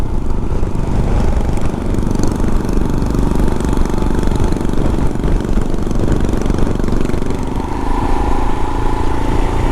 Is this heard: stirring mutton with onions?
no